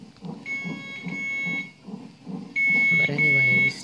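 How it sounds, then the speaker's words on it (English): Repeated high electronic beeps in short bursts, with a longer sustained tone near the end, heard in a hospital room at Stanford Hospital under a person talking quietly. "I don't know what's beeping."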